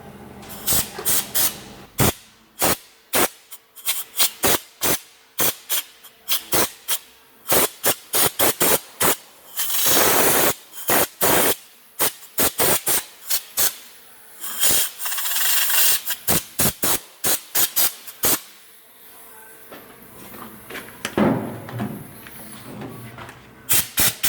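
Schutz underbody coating is sprayed onto a repaired Fiat Ducato sill near the jacking point, with rapid, close, hissing spray bursts in an uneven rhythm and a few longer continuous blasts.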